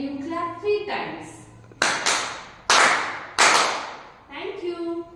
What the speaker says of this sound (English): This story begins when you clap three times.